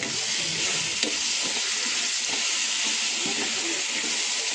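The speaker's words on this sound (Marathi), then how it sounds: "आता आपण आपला मसाला चांगला तेल सुटेपर्यंत भाजलाय" Masala for a Kolambi rassa prawn curry fries in hot oil with a loud, dense, steady sizzle close to the mic, over a faint scrape of stirring.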